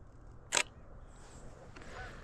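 A Nikon D500 with a 200–500mm f/5.6 lens fires a single crisp shutter click on a quiet morning outdoors during bird photography, one sharp snap against soft background ambience.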